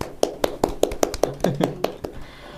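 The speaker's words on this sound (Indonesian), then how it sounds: "Tepuk tangan buat Mbak Mimin" A small podcast audience in Indonesia claps for a guest named Mimin: about ten sharp, evenly spaced hand claps ring out over a couple of seconds, close and fairly clear, with a faint voice briefly underneath.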